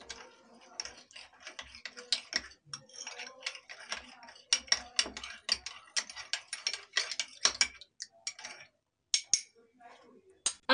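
A spoon stirs arrowroot into water quickly in a small bowl or cup, making rapid light clinks and scrapes, close up with brief pauses.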